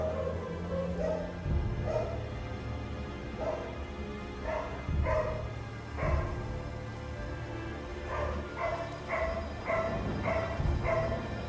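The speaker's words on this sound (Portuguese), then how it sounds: "Cachorro vai latir agora" A dog in the video game God of War barks repeatedly in short bursts, some single and some in quick pairs, over a steady low background hum.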